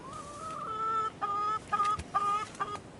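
Organic native chickens cluck in a repeated series of short, nasal calls, fairly close and clear against a quiet farm background, with brief pauses between bursts.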